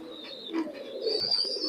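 High-flying pigeons of an imported bloodline murmur and coo softly while feeding their chicks in the loft, a continuous close, low warble with faint higher chirps.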